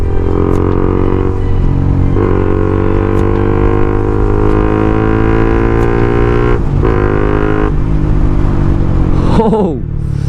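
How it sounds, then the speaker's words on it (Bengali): A modified Honda CBR150R motorcycle with a very loud aftermarket exhaust revs up close, its engine tone rising and falling several times in a continuous blare. "মারাত্মক সাউন্ড, এটা প্রচুর লাউড এক্সস্ট"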